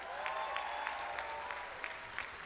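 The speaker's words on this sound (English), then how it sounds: "I think they deserve another round of applause." Steady applause from a commencement audience at Bronx Community College, with even, continuous clapping heard from a distance, fairly faint and without voices throughout.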